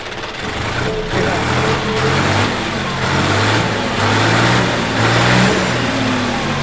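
A tractor engine runs steadily nearby with an even, smooth throbbing hum, rising slightly in revs now and then.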